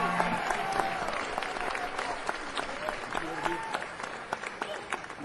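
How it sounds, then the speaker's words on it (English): A club audience at a live blues show in Ferndale, Michigan gives a round of applause for a tenor saxophonist, a sustained wash of clapping that slowly thins, with voices over it. "Nice round of applause"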